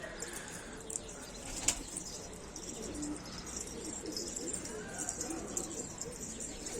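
Pigeons flying and cooing outdoors, faint soft coos and a brief wing flutter over steady ambient noise, with a person talking nearby.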